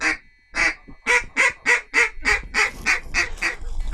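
Ducks call during a duck hunt in Arkansas: a rapid, evenly spaced run of about a dozen loud, nasal honking quacks, close and clear over a faint low background.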